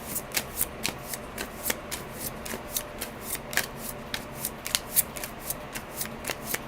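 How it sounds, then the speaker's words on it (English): Playing cards riffle-shuffled by hand during a solo tabletop game session, a steady run of crisp, papery bursts repeating every fraction of a second, close and fairly quiet, with no talking. "Let me just separate them and then I'll shuffle."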